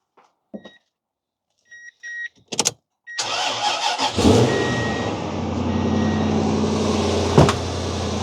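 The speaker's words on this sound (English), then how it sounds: "Let's plug it in and get this sucker jump started." A first-generation Toyota Tundra pickup beeps a few times and clicks, then its engine cranks, catches and settles into a steady idle after a jump start.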